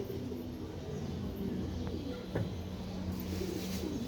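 Female pigeons being sold at a home loft give low, repeated cooing calls close by, which run steadily through a background of faint, continuous ambient noise.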